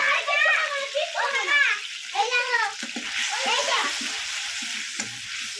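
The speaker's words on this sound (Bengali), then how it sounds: "মশলা থেকে যতক্ষণ তেল না ছাড়বে ততক্ষণ মশলাটাকে খুব ভালোভাবে কষিয়ে নেব" Masala with salt and turmeric stir-fried in oil until the oil separates, a steady close sizzle with stirring scrapes running beneath a person's voice throughout.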